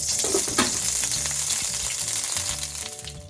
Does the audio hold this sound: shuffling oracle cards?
no